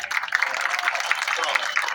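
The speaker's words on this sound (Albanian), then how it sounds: "do doja që ta kuptoja se sa ju ka pëlqyer ky edicion nga duartrokitjet e tanishme" An audience at a music festival award ceremony claps in a dense, steady patter of many hands, moderately loud and sustained, with voices mixed in beneath.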